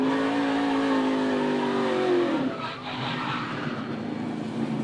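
NASCAR race car sliding sideways under throttle, its engine a loud sustained roar that sags in pitch, then gives way to rough tire noise and a lower, steadier engine note.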